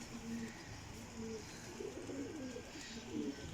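Pigeons cooing at a pigeon loft, several soft, low throaty coos repeating close by over a quiet background hiss.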